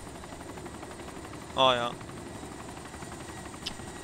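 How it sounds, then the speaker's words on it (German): A helicopter in the military video game ArmA 2, Wasteland mode, gives a steady whirring drone throughout, with a short burst of a voice partway through. "Ich weiß nicht, warum dieser scheiß Heli immer nach rechts."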